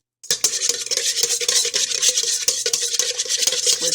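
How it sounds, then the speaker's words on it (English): A whisk clatters steadily against a bowl, beating lemon juice, Worcestershire sauce and a pinch of cayenne for hollandaise; rapid, even metallic strokes continue close and alone for the whole stretch. "whisk that really good before I add anything else"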